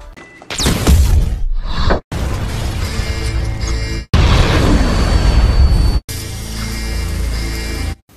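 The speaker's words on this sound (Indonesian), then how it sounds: "Karena ledakan itu, Ralpi terkunci di ruangan itu" A loud, roaring explosion in a film, heavy rumbling blasts broken by sharp cuts into further booming segments.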